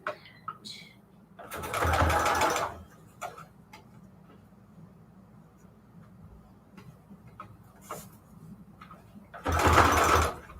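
A sewing machine stitches scrap fabric ruffles for junk journals in two short, close bursts separated by quiet handling and ticking sounds.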